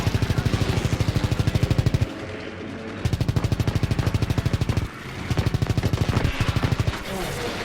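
Rapid machine-gun bursts rattle loudly in Call of Duty level 9, long rhythmic strings of shots broken by brief pauses, with a voice faintly under the gunfire.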